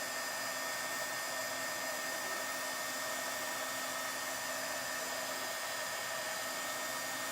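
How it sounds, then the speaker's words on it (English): A heat tool blows hot air over watercolor paper in a steady, unbroken whoosh that stays constant and close throughout, with no voices. "heat this up with the heat tool"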